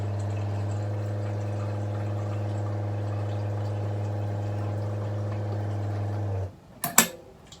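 Unfiltered water from a boat's holding tank runs steadily into a kettle for morning coffee aboard a catamaran, a constant hum-like flow that stops near the end, followed by a couple of sharp clunks.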